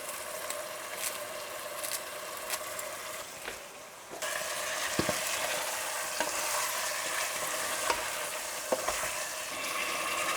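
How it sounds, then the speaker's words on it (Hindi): Chicken browns with spices in a pot over a medium flame, giving a steady sizzle broken by repeated scraping stirs of a utensil; no talk. "चिकन को मीडियम फ्लेम में मसाले के साथ 5 मिनट भुनेंगे।"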